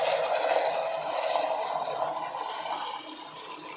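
Melted jaggery syrup poured through a strainer into another pot, a steady close liquid pour and trickle running evenly throughout with no talk.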